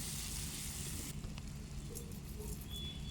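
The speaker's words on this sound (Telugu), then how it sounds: "కట్ చేసిన టమాటా ముక్కలు కూడా వేసుకొని అవి కూడా వేయించుకోవాలి" Tomato pieces frying in a pan with ginger garlic paste for a prawn and drumstick curry, a close, continuous crackling sizzle, brighter at first and then settling into a softer hiss with a few small pops.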